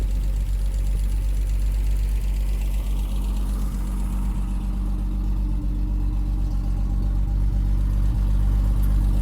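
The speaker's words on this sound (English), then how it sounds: "Tourist Trophy exhaust. It's got a nice note to it." A 1973 Triumph TR6, warmed up after a run, idles steadily through a Moss Tourist Trophy exhaust, its low, even burble loud and close and continuous with no talk over it.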